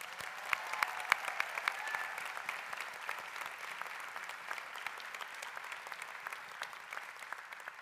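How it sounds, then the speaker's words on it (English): Applause from a commencement audience at a Yale School of Nursing graduation, a continuous crowd of clapping hands, moderately distant and steady throughout with no voices over it. "Please join me in applause honoring Dr. Holly Powell Kennedy"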